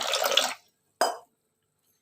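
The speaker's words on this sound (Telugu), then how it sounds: "పప్పు సరిపడా వాటర్ పోసేసుకుందామండి" Water is poured onto washed lentils in two short splashing gushes, the first about half a second long and the second briefer, with a tiny trickle at the end and silence between.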